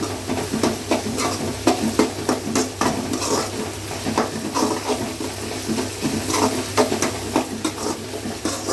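Ginger garlic paste stirred in a frying pan for pepper chicken, with a steady sizzle of hot oil and repeated scraping strokes of a spoon against the pan.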